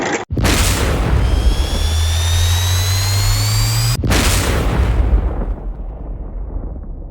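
A gearbox-driven chaff cutter (toka) runs loud and steady with a low droning hum and a rising whine, cut by two short breaks, then carries on more quietly at the end.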